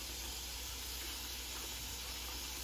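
Soy sauce hits a hot pan while cooking Chinese rice, a steady, quiet hiss and sizzle lasting the whole brief moment without any speech.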